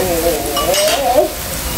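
Food being put onto a hot grill gives off a steady, close sizzle with some scraping and stirring on top.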